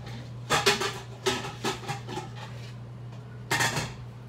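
A cooking pot is picked up, shifted and set down, giving several clanking metallic knocks in short bursts with quiet pauses between, close and moderately loud, with no talking.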